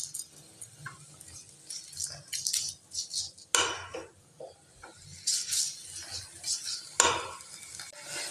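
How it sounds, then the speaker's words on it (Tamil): Tomatoes sautéed in a pan with a little salt for a banana-flower kootu, giving a soft sizzle with repeated scraping stirs and light utensil clinks, fairly quiet and close. "நல்லா போட்டு வதக்கி விட்டுக்கணும்."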